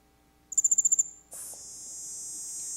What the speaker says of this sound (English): So this is the sound of one magic cicada.